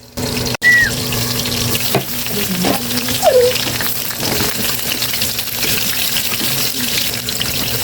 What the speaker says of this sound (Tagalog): Nindot kayo paminaw no ng sound sa magprito ka ba no?